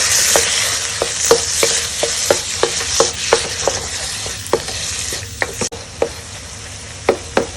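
Tofu stirred with smoked paprika and spices frying in oil, a steady crackling sizzle broken by regular spoon scrapes roughly every half second, close and fairly loud, with no voices.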